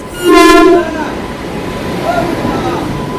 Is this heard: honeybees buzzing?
no